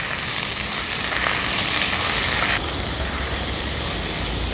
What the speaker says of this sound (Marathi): आता भाजी आपल्याला छान लसणावर परतून घ्यायची आहे।